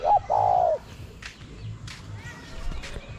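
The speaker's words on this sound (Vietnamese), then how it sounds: "Chim này, chim này." Two loud, close bird calls open the clip, followed by quieter chirps and scattered sounds in the background.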